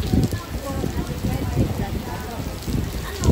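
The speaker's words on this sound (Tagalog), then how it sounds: "Pumatatak ang ulan." Steady rain patters on a surface, a dense wash of small drops with some louder splashes, continuous and fairly close.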